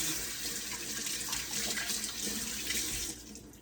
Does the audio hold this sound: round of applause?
no